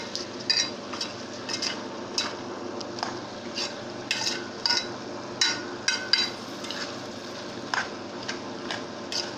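A spoon stirring kebab in tomato sauce as it fries in a pot, making repeated scraping clicks and taps against the metal over a soft steady sizzle.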